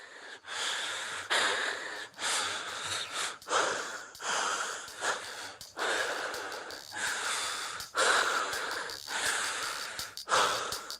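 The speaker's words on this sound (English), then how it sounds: "him breathing like this, like Shannon Sharp on an IG Live, is basically the sound of him being out of breath from running" Heavy, ragged out-of-breath breathing from a man in a track, with repeated loud snorting inhales and wheezy exhales that come in irregular bursts, close and alone without speech.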